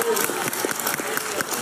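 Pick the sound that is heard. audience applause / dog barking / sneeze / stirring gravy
audience applause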